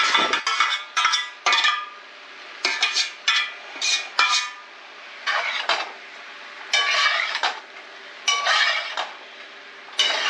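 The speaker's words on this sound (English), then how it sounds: "instead of putting the meat into the pasta, we're gonna put the pasta into the meat" A metal utensil scrapes and clinks against a pan as pasta is stirred into browned hamburger meat, giving repeated bursts of scraping with short pauses and a faint sizzle underneath.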